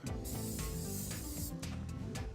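Several short hissing bursts of cooking oil spray onto a hot pan, one after another, over a close, steady sizzle with no talking.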